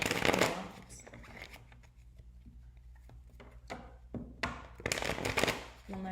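Tarot cards riffle and flap in short bursts, a close, papery shuffle with soft taps in between and faint talk in the background.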